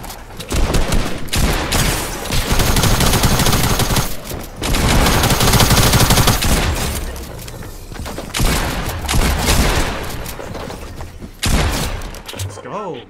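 Gunfire in a shooter video game: loud, continuous bursts of rapid automatic shots in long stretches with brief gaps, while players talk and shout over it.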